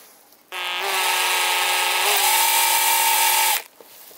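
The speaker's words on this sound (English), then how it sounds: "So I'm going to move forward now with finishing drilling this thing out." An electric drill bores out a metal buckle in one continuous burst of about three seconds, a loud whining motor tone that steps up in pitch midway, with quiet before and after.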